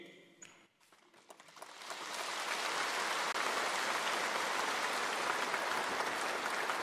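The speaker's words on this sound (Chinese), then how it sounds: "宣誓结束后，习近平向全场鞠躬致意，现场爆发出长时间的热烈掌声。" A large assembly hall bursts into long, warm applause after Xi Jinping takes his oath and bows, starting with a few scattered claps and swelling within two seconds into dense, sustained clapping from a big crowd.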